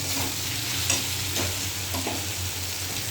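Spices and salt being fried and stirred in a pan, a steady close sizzle with occasional scraping stir strokes throughout.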